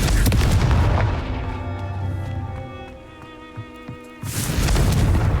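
The Confringo spell in the wizarding game Hogwarts Legacy sets off a loud rumbling blast that decays into a tonal magical hum, and a second booming burst hits near the end.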